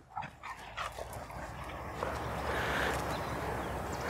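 An Appenzeller dog barks a few times near the start, short sharp yaps over steady outdoor background noise that builds louder toward the end.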